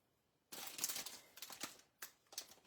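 Scissors snip ribbon for a Christmas craft, a few quick, close, crisp cuts in an uneven rhythm after a brief silence.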